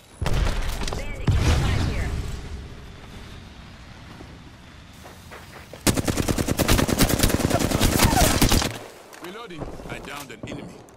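Bursts of automatic weapon fire in the Apex Legends video game, with a long rapid volley in the middle and shorter clusters before and after, loud and close among other game effects.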